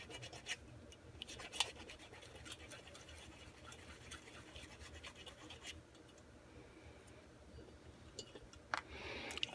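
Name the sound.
sanding valve openings on a mini steam engine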